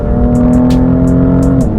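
A BMW M4 engine holds a loud, steady drone under throttle from inside the car, with a sustained low tone that dips slightly near the end and faint ticking sounds above it.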